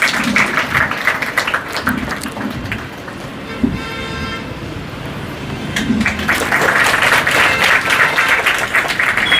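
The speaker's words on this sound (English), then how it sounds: "girls, big round of applause." Applause for girls at a school event, steady massed clapping that swells toward the end, filling the whole stretch with no speech over it.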